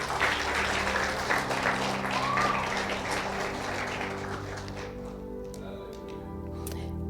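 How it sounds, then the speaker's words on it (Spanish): Church congregation applauding during a Spanish-language service, dense sustained clapping that fills the room, gradually thinning out toward the end with a low hum underneath. "Denle un aplauso al Señor."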